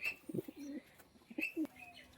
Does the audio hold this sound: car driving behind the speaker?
no